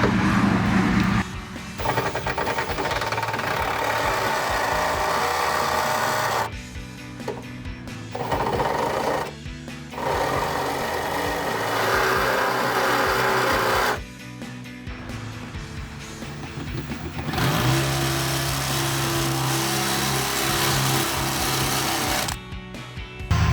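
A power tool punches holes for fitting a rear spoiler on a 2010-2014 Mustang, a loud continuous buzzing whine that runs in long bursts with brief pauses between them, close and steady.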